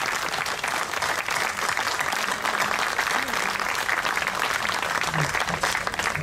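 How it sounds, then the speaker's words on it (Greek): Sustained audience applause at a Greek book presentation, a dense, steady clatter of many hands that stays loud across the whole stretch, with a faint voice briefly audible beneath it. "Θέλω με ένα μεγάλο χειροκρότημα"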